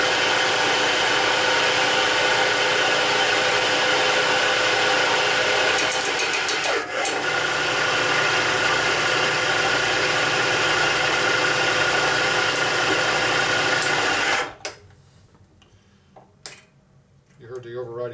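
A tapping head threads a hole in a Harley panhead cylinder head, a steady machine drone with a grinding rasp that runs continuously before cutting off abruptly near the end, followed by a few quieter clicks.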